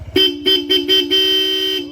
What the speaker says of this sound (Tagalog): kanabit natin Bosch Europa dual horn setup, stock horn selector